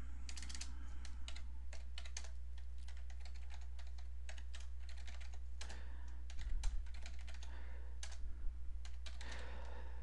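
Fingers typing on a computer keyboard, a brisk irregular patter of sharp key clicks close to the mic, with brief bursts and short pauses over a quiet background hum.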